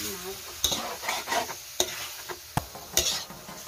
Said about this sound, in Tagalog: hinahalo na natin yung ating meat